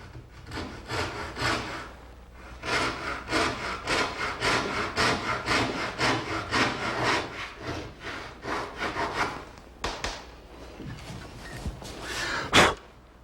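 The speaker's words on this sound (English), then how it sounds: "So now if I run the saw right down the joint, it should be perfect." A handsaw run down a joint in a wooden boat during construction, with steady rhythmic back-and-forth rasping strokes, close and clear, ending in a final sharp stroke.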